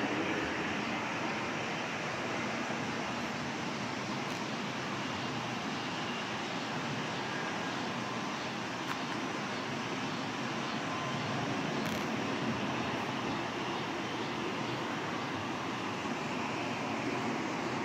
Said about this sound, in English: The plane's just stacked up waiting.